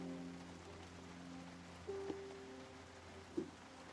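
Soft, steady rain falling in the zombie survival game Project Zomboid, a faint, even patter with a couple of brief louder ticks, heard alone at low level.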